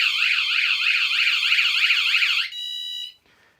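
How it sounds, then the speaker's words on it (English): A VanGuardian van alarm sounds loud and close, a rapid warbling electronic tone cycling evenly for a few seconds, then switching to a steady shrill chirp before cutting off. "it gives that 2-3 second audible alarm. It now runs for 10 seconds"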